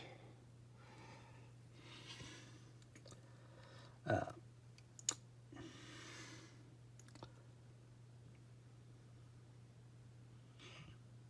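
A few faint, sparse clicks in a quiet room as a plastic part for a Bandai 30 Minute Sisters Rishetta model kit is snipped from its runner, with sharper snips around the middle.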